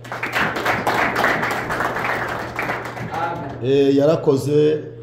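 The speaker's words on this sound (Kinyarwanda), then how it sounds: "Reka iyo Mana yaturinze twese tukomera amashyi." A Sunday school worship congregation claps its hands in a brisk, lively burst of applause for about three seconds, then loud voices rise over the fading claps.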